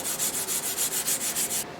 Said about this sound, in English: You can see I've started to sand the top. I'm doing that with the 400.